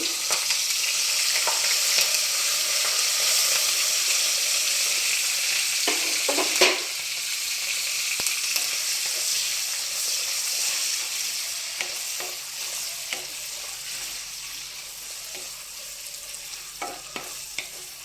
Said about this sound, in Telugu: మనకు ఆనియన్ నూనెలో ఆయిల్లో తొందరగా వేగిపోతుంది